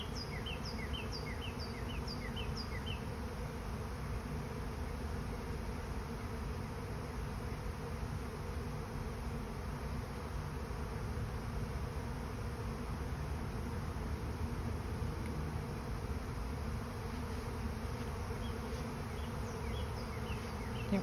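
A honey bee swarm arriving at a hive makes a dense, steady buzzing hum that continues unbroken throughout, with occasional faint bird chirps over the drone.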